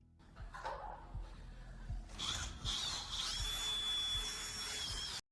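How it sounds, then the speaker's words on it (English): A power drill whines steadily for a few seconds, grinding into a metal door lock, close up, after a brief scuffle of handling noise. "staff began drilling through the lock to grant them access"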